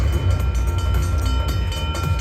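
A train sound effect from the Huff N Even More Puff slot game rumbles loudly and continuously, with a rolling rail-like clatter and no speech over it.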